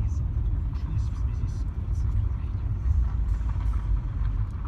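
Cabin of a moving car with a deep, steady road rumble and engine drone, close and continuous, while someone talks over it.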